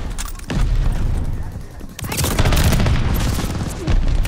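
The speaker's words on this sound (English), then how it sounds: "Friendly mortar fire coming!" Friendly mortar rounds pound in a video game battle: heavy booming impacts and crackling gunfire swell and fade in loud waves, with a voice shouting over the din.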